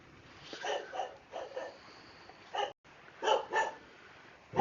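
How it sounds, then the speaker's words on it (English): Dogs barking in a waking neighbourhood in the morning, several distant bursts of two or three barks spread across the stretch, faint and outdoors. "People walking, dogs barking."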